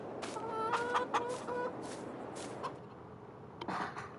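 Chickens in a farm-style video game cluck in a quick burst of repeated calls, fairly close and clear, followed by a few scattered softer clucks.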